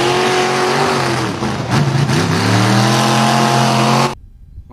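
A toy monster off-road car plays a loud revving engine sound that rises and holds steadily for about four seconds, then cuts off abruptly.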